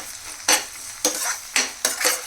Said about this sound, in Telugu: ఆనియన్స్ బాగా ఫ్రై అయిపోవాలి